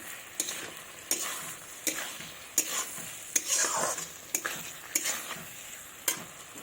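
A spatula stirs fried potatoes, tomatoes and big fish head in a sizzling oiled pan, with sharp scraping strokes landing roughly every second over a steady fry hiss, close and fairly quiet.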